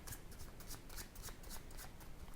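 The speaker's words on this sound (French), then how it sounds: "Le spectateur mélange le jeu." A deck of playing cards is shuffled by hand in rapid riffling bursts, close and fairly quiet, with no talking over it.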